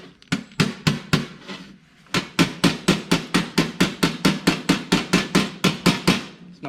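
Sheet metal on a rusty car underfloor is hammered metal on metal to stretch it, with a quick burst of blows, a short pause, then a fast, steady run of sharp, close clanks.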